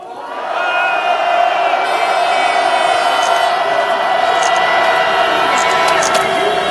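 A protest crowd at a rally demanding Park Geun-hye's resignation and Lee Jae-yong's arrest lets out a loud, sustained roar of shouting and cheering that swells in and holds steady.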